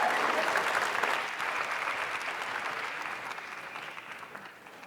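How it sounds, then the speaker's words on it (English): A crowd at a Code.org computer science education kickoff event applauds the founder and CEO with dense, steady clapping that slowly fades over about five seconds. "Please give a round of applause to Hadi Partovi."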